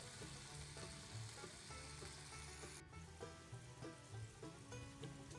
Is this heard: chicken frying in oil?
yes